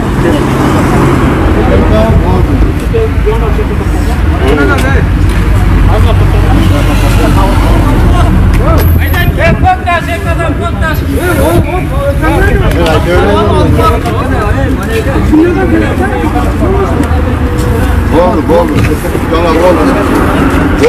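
Cars and other vehicles leave Batken for Aksai village in a loud, continuous wash of engine and road noise, with crowd chatter and voices talking throughout.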